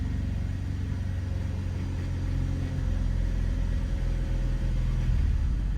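A Cadillac CTS with a GM 3.6 engine and misfires on several cylinders runs close by, a low, uneven rumble that rises slightly toward the end of a revving stretch, with no talk.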